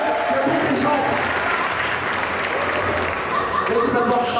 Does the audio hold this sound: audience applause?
yes